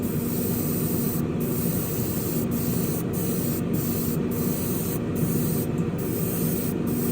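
An airbrush sprays light coats of red paint onto a Ferrari SF90 Spider scale model, giving a steady, close hiss throughout with brief gaps where the trigger is released.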